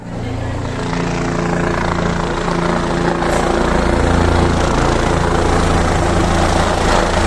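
A helicopter's heavy engine drones loud and close, a dense steady roar with low thumping underneath and no pauses.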